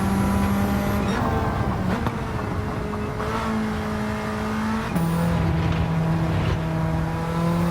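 A Mitsubishi Evo race car in Gran Turismo 7 drones steadily at high revs along a track, its engine pitch dipping and climbing through gear changes and braking, loud and continuous with no talk.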